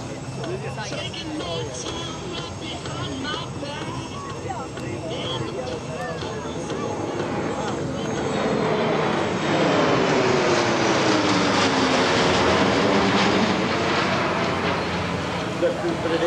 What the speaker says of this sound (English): The crew will now perform a high-speed pass with the aircraft capable of accelerating to over 350 miles per hour.